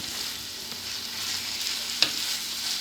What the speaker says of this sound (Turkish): Etimiz biraz piştikten sonra domatesle biberimi ara ara ilave edeceğim.